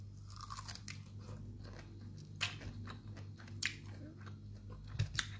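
Small sweet pineapple bought as street fruit in Bangkok is chewed close up, with soft wet crunches and a few sharper bites spread unevenly over a steady low hum.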